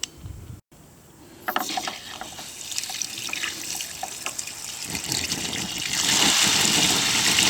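Water runs steadily from a tap into a basin as dirty fluid drains out after flushing, a close, continuous splashing flow that grows louder and fuller toward the end.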